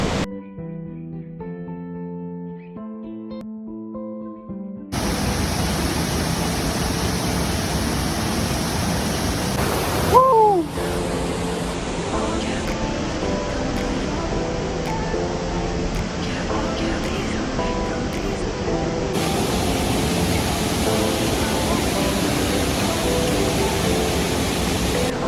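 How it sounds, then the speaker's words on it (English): Dudhsagar waterfall in monsoon, a dense, steady roar of falling water that sets in loudly after soft music at the start and continues unbroken, with faint voices briefly audible. "Enjoy Dhudhsagar Waterfalls in cinematic mode."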